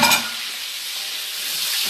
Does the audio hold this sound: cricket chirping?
no